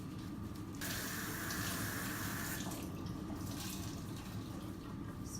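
Tap water runs steadily into a sink while a makeup sponge is rinsed clean, a continuous close splashing gush that grows fuller after the first second, with no talking.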